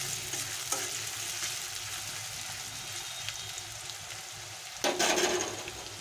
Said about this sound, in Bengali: আমি বেরেস্তাটা ভেজে নেব।